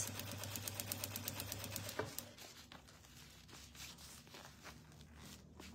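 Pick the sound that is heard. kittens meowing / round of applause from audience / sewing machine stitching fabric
sewing machine stitching fabric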